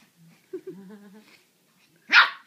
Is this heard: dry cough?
no